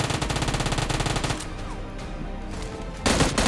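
Automatic gunfire from a PUBG match on the Erangel map rattles in a rapid, loud burst, fades into a quieter stretch of echoing shots, then a second close burst erupts near the end.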